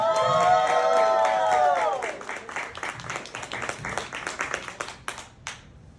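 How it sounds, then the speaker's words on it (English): Audience at a stand-up comedy show in Greensboro bursts into loud applause with cheering, starting with a bright sustained shout or whistle over dense clapping that then thins into scattered, fading claps. "Give him a round of applause."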